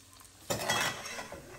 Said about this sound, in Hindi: प्याज को फ्राई कर लें